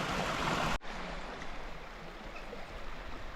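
A river in Yorkshire flows between rocks, giving a steady broadband rush of water that holds evenly throughout, with a brief dip near the start before the flow resumes.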